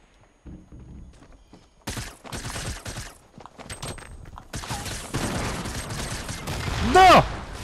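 Gatling gun fire in the video game Fortnite, heard as dense rapid bursts of shots building over several seconds amid other game noise, fairly loud and close.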